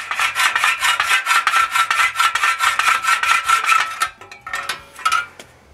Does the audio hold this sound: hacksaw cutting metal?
yes